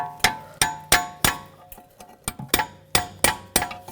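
Sharp metallic clangs from a punch or chisel being hammered to knock a front brake hose out of its bracket on a 2006-2009 Audi S4, about nine evenly spaced strikes, close and loud with ringing decay.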